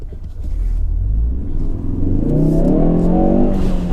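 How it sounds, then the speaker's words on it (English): A car with power also sent to the rear wheels gunned through a turn on a backroad: a low engine rumble swells into a loud, rising rev that keeps climbing steadily to the end. "It's always fun turning right or left and gunning it"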